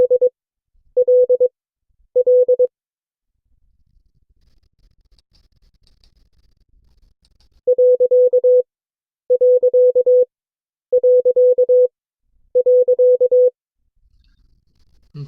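A Morse code period sent as CW sidetone: a clear, steady single-pitched beep keyed in alternating short and long elements, several separate groups spaced by silence, with nothing else audible.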